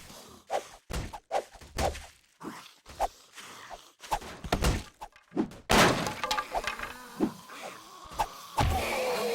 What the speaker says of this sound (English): there's a zombie right in the stinking window trying to get at me